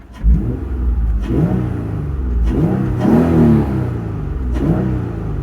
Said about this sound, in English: throw it in neutral, give it a little bit of a couple revs.